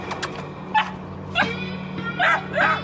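Three abandoned puppies sheltering in bushes under the hot Texas sun give high yips, short barks and whimpers in scattered bursts over a low background hum.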